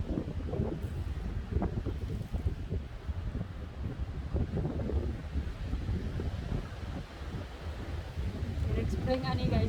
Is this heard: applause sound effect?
no